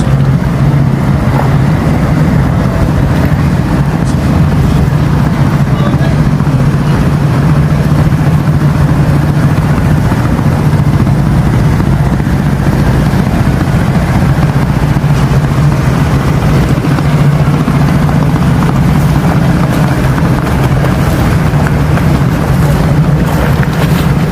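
Engines of large river launch boats, some two or three decks high, drone in a loud, continuous low hum with wind buffeting the microphone throughout.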